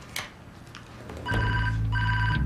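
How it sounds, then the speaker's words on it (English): A telephone rings in a TV drama scene, two loud electronic ring bursts starting about halfway through after a quieter stretch, with no talk over it. "How is it that you're calling me right now, Des?"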